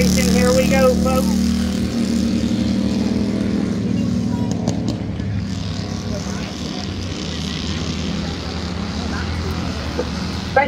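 Youth Bandolero race cars at Midvale Speedway roar in a close pack during a 12-lap feature, their engines droning and revving continuously beneath a track announcer's commentary.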